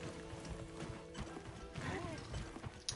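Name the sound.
horse hooves in video game Monster Hunter Wilds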